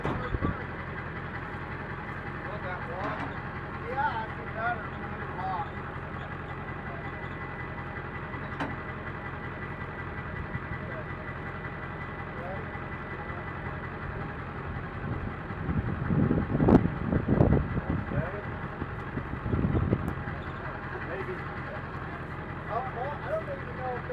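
A truck engine idles at a farm with a steady low hum. People talk over it, and the rumble swells louder for a few seconds near the end.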